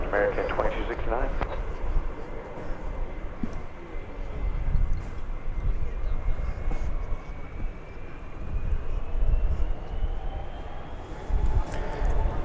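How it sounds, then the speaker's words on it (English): Airliner departing DFW Airport on runway 18 left, bound for Salt Lake City: a steady broadband jet roar holding loud throughout at moderate distance, with a faint rising whine, over light wind and background noise. "Here goes the flight to Salt Lake City."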